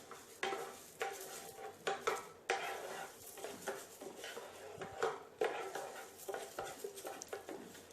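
Chana dal roasts in a pan over a medium flame, mostly heard as repeated spatula scrapes and clinks against the pan with a faint sizzle, fairly quiet and rhythmic.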